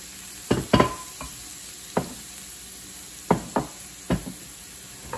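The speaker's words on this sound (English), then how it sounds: "we're going to add our carrots to here and fry them up just for a couple of minutes" Carrots and celery frying in oil in a pan, a low steady sizzle broken by several sharp knocks and scrapes of a utensil stirring against the pot.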